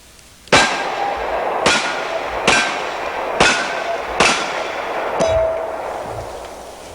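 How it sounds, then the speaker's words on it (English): Smith & Wesson Model 27 heavy-frame .38 revolver firing 158-grain +P rounds at steel targets, five sharp shots evenly spaced about a second apart, each followed by a ringing metallic clang of the hit plate. "So let's shoot these steel targets over here with that 158 grain Plus P loading and see what the gun looks like."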